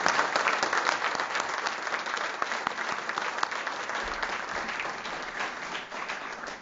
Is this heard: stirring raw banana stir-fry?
no